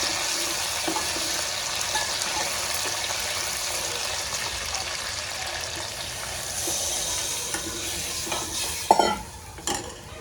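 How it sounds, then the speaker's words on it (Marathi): Garlic and green chilies frying in hot oil for Nagpur kadhi, a steady close sizzle running throughout with occasional stirring scrapes and a louder clatter of a spoon against the pan near the end. "लसण घातलं, लसण तळतडल्यावरती मिरची घालून द्यायची."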